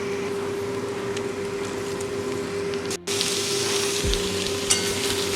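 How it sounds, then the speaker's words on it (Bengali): Chopped green tomatoes go into a pan of fried onion, ginger and garlic, setting off a steady loud sizzle with a brief dip and a stir, frying on alone without talk. "এবার দিয়ে দেবো আগে থেকে কেটে রাখা কাঁচা টমেটো"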